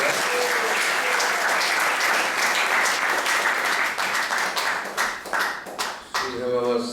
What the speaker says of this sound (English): So let's give a round of applause for Goparaj Prabhu.